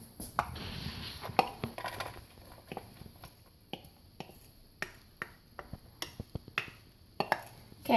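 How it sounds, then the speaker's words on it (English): Onions drop into a pan in a home kitchen, giving scattered light taps, clicks and soft clatters of utensil and pan at an uneven pace, fairly quiet with no talking. "And now I'm going to put in the onions"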